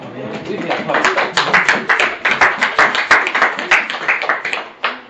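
A church congregation at a revival service claps together in a quick, steady rhythm, loud and close, with voices mixed in among the hands.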